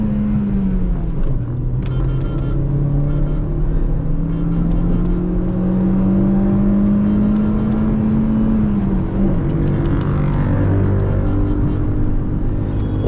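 Motorbikes riding along a road heard up close, a loud, steady engine drone with rising and falling pitch as they accelerate and ease off, continuous throughout.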